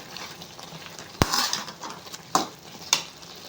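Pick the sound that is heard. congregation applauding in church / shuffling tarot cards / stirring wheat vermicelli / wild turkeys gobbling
stirring wheat vermicelli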